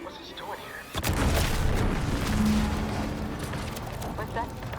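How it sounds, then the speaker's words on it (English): A deep explosion booms in the video game The Outer Worlds 2, a sudden loud blast followed by a long rumbling roar, with a voice speaking over it. "What's that? An explosion?"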